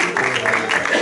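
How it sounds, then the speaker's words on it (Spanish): Audience applause in a lecture hall during an education conference talk, a dense, steady clapping wash filling the whole second, loud and close with no voices over it. "un aplauso para el 10 minutos"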